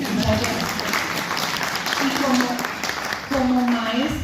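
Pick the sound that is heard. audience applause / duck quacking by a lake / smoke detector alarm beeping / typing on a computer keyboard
audience applause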